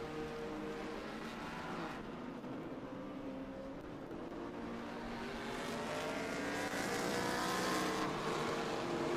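A vintage race car in an SVRA feature race at Indianapolis Motor Speedway drones steadily with a rising, whining engine note and brief dips as it shifts gears, heard at a moderate distance with no voices.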